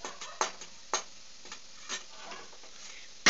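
Half-fried potatoes for chow mein are stirred in a pan, a quiet, faint sizzle punctuated by a few sharp, separate spatula clicks and scrapes at irregular intervals.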